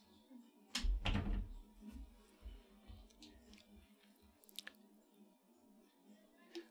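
A door is pushed shut indoors with a dull, close thump and a short rattle, followed by faint scattered knocks and light room noise.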